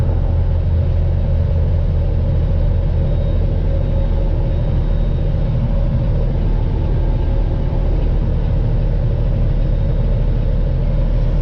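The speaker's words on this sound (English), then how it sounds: "that's a loud truck." A Peterbilt 389 truck engine pulling uphill at full throttle on a snowy higher-elevation grade, a loud, constant low rumbling drone heard from inside the cab without a break.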